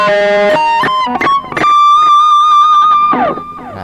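Distorted electric guitar notes played with effects, including sustained notes that bend smoothly upward in pitch, loud and close.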